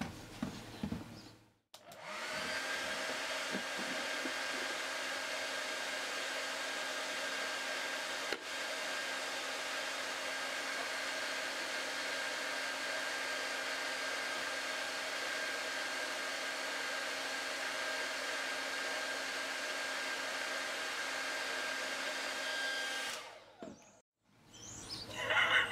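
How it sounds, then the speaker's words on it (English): A hair dryer blows steadily onto a small wind turbine, a loud continuous whirring hiss with a fixed whine that starts abruptly, holds for about twenty seconds alone, then cuts off. "And the wind source I'm going to use, it's a hairdryer."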